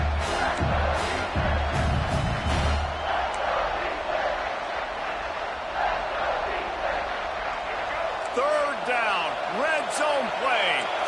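A large college football stadium crowd roars continuously during a fourth-quarter red zone play, loud and sustained, with whistles and shouts rising near the end.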